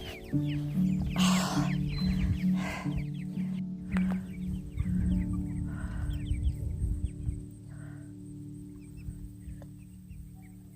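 Backyard chickens that have escaped the shed, coop and run cluck steadily in a loud, busy chorus, with soft background noise and no talking.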